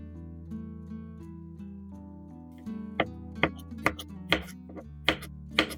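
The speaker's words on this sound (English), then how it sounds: "Slice the garlic thinly." A knife slices garlic thinly on a cutting board, with several crisp taps in an uneven rhythm over steady background music, close and clear.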